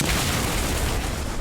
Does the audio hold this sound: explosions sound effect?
yes